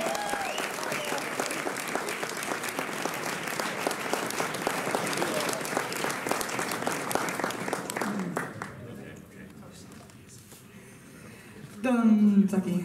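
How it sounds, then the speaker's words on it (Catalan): A crowd at the Jazzing Festival in Sant Andreu, 2023, applauds a jazz concert with dense, steady clapping that fades after about eight seconds, leaving quieter room sound before a voice speaks near the end. "un gran aplaudiment"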